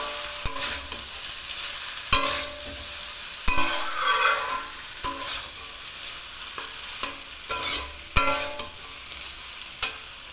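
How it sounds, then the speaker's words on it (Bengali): Pasta being stirred and fried in a pan until it browns, with repeated sharp scrapes and clanks of the spoon against the pan over a steady sizzle, close and fairly loud. "এবার চলো এটাকে ভালো করে মিক্স করতে হবে, আর লাল লাল করে ভাজতে হবে পাস্তাগুলোকে"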